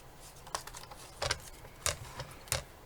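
A few sharp, crisp clicks and crunches of a hole punch on thin paper, spaced irregularly, close by and fairly quiet, with faint rustling between them.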